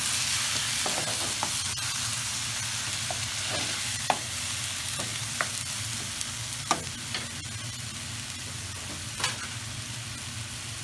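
Lamb pieces sizzle in a hot wok during stir-frying, a continuous bright crackle with scattered sharp pops and faint scraping taps from stirring, close and loud, with no voices.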